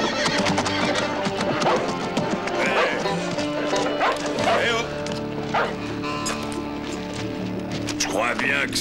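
Horse neighing and whinnying alongside dog barking and clip-clopping hooves, with people talking throughout in a busy, fairly close outdoor scene.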